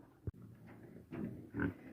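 A pig grunts in a barn, giving several short, low, close grunts, with a sharp knock near the start and quiet gaps in between.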